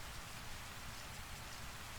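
Steady rain falling, a soft dense hiss of drops on surfaces with no other sounds, continuous and fairly quiet.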